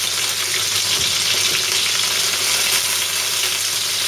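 Chicken frying in hot oil, a steady, dense crackling sizzle that holds at an even level throughout with no voices over it.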